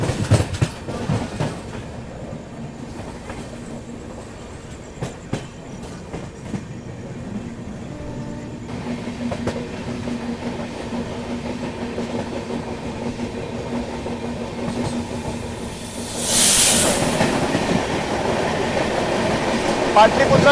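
Patliputra–Chandigarh superfast train runs on rails with a steady, continuous rumble and wheel clatter. The sound is heard from on board a moving train, with a brief louder hiss near the end.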